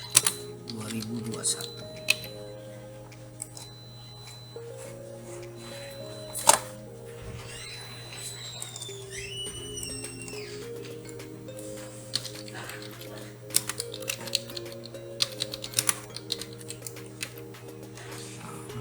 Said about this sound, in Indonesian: maka kita ketik di kolom ini tanggal 31 Desember